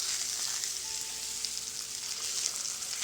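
Chicken sears in a pan after being flipped, a steady close hiss of sizzling oil that stays even and unbroken throughout, with no talking.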